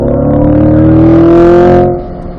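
A 2020 Corvette C8 coasts on a track day circuit, its engine a loud, steady droning hum with rich harmonics that eases off and softens toward the end.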